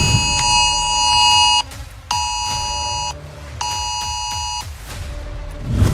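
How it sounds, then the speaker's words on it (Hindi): Israeli red alert rocket warning siren played aloud at a UN Security Council session, heard as three loud, bright electronic tone bursts of about a second each, separated by short gaps. "इजराइल के राजदूत डेनी डेनन ने सुरक्षा परिषद के सदस्यों के सामने रेड अलर्ट सायरन बजा दिया।"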